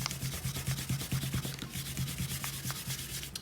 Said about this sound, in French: on peut gommer nos traits de construction.